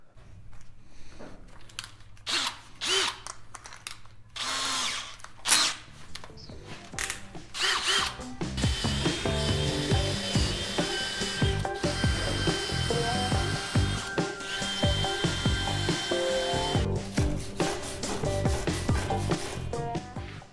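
A power drill tightens the legs and underframe of a boat's galley subframe, with short whirring bursts and then a long, steady, loud whine with ratcheting clicks, close by and without talking.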